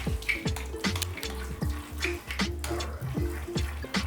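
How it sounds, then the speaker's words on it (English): Seasoning for a rib roast is mixed together in a bowl, giving rhythmic scraping and clinking strokes about every half second, close up and fairly quiet, with no voices. "Now we're just gonna mix this all together."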